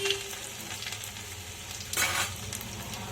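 Garlic, ginger and fennel frying in hot oil in a pan for a simple pasta, giving a steady broadband sizzle with a brief louder burst near the end, close and continuous with no talk.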